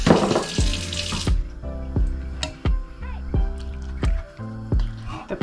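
Water is poured into a pan of chicken with paprika, giving a short rushing splash at the start. Quieter clinks and tonal sounds follow over the next few seconds.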